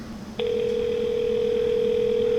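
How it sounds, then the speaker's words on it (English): A landline telephone call rings back as one steady, loud tone that starts abruptly after a quiet stretch of line hiss and holds to the end, with no voices. "Took a while to get there, but it's ringing."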